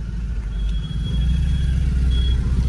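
Engines of two-wheelers and other vehicles packed into a traffic jam on a narrow road on the Mahabaleshwar–Khandala ghat give a steady, close, low rumble throughout, with a thin, high, beep-like tone briefly cutting through.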